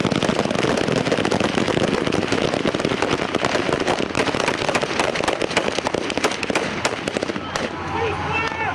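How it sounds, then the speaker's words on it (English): South African police opening fire with automatic weapons on charging striking rioters in 2012, heard as dense rapid bursts of gunfire crackling continuously, loud and sharp, with sparser shots toward the end. "the strikers charged and the police opened fire with automatic weapons"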